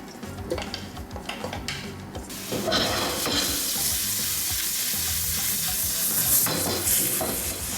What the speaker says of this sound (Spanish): encendemos la estufa y agregamos suficiente aceite. Vamos a agregar la cebolla